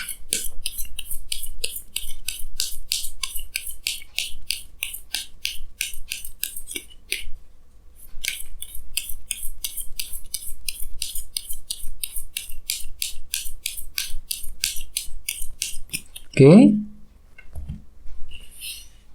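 Tarot cards are shuffled and drawn, a rapid series of crisp, close riffling and sliding taps that repeats in bursts with a brief pause, ending in a soft thump and rustle.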